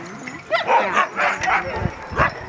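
Alaskan husky sled dogs at a kennel near Chena Hot Springs, Fairbanks, giving several close, short barks and yips with whimpering in a quick irregular sequence.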